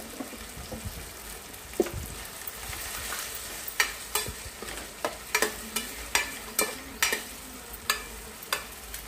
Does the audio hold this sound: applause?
no